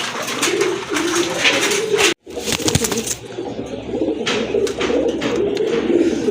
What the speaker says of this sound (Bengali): এটা মাদ্রাজি গররা কবুতর